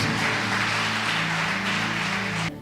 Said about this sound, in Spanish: Denle un aplauso fuerte al Rey de Reyes.